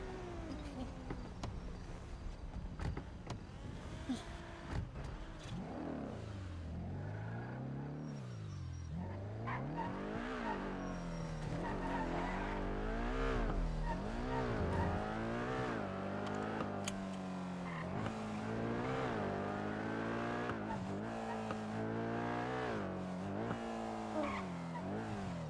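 A video game car drives hard with the engine revving up and down in repeated swells, gear changes and tire squeals, loud and close for a long continuous run.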